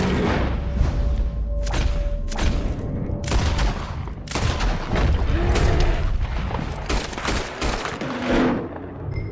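Dense bursts of gunfire from the video game Red Dead Redemption 2, rapid loud shots and booming blasts crowding one another across the whole stretch with heavy low thumps.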